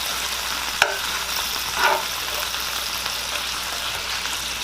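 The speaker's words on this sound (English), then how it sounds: "So we gonna add some of that garlic. We gonna kind of stir that in." Garlic is stirred into a frying pan with tiger shrimp, a steady sizzle broken by one sharp utensil knock early and a brief scrape of stirring shortly after.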